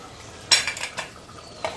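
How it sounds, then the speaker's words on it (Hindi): A spoon scraping and stirring mutton curry in a pressure cooker, a brief clatter of metal on metal followed by softer scrapes, close and fairly quiet. "इसे हम थोड़ा सा अच्छे से मिला मिक्स कर देते हैं वापस से"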